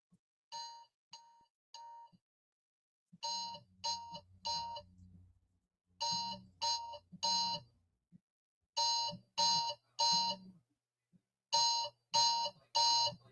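An alarm clock rings in repeated groups of three to four sharp electronic beeps, separated by short pauses, steady and moderately close, with no talking over it.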